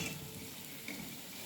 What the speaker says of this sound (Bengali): তো এইভাবেই সব বড়াগুলোকে উল্টে পাল্টে ভেজে নেব।